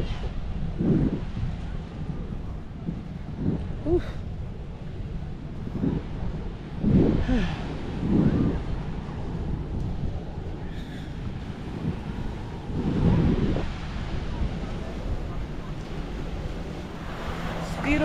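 Ocean surf and breeze on a Fort Lauderdale beach, steady rushing wind and waves with periodic swells, continuous and moderately loud throughout.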